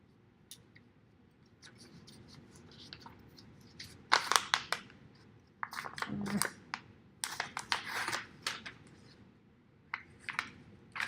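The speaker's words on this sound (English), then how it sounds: "So I'm going to tape this down." Crisp bursts of tape being pulled and pressed down over shrink wrap around a sublimation mug, with irregular crinkling and tearing sounds that cluster close and loud in the second half.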